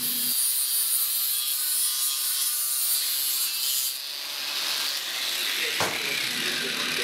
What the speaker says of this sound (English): I finished the rough forging and I'm moving over to the angle grinder